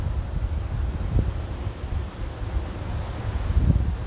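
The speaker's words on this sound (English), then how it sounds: "Can't hear me in the wind." Wind buffets an outdoor microphone in Las Vegas with low, rumbling gusts that rise and fall continuously, filling the sound with no clear voices.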